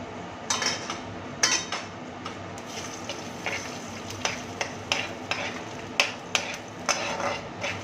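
Whole spices including bay leaf, cumin, panch phoron, cardamom and a little cinnamon frying in hot oil, a steady close sizzle punctuated by regular sharp spoon clacks against the pan.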